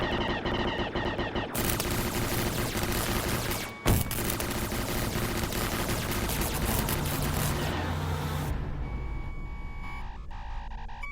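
Continuous heavy gunfire in a film shootout, a dense unbroken roar of shots with a brief break near the middle, loud and steady before thinning out at the end.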